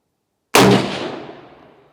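A Marlin 1894 rifle chambered in 218 Bee fires a single round: one sharp, loud crack after a moment of silence, followed by a rumbling decay.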